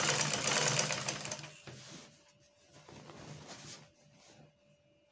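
An electric sewing machine stitches the seams of a shift dress in a loud, fast mechanical whir that slows and softens into intermittent shorter runs, heard alone up close.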